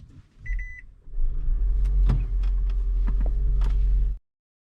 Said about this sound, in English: and then you go ahead and fire up the car.